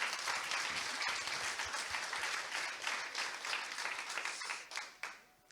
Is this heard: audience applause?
yes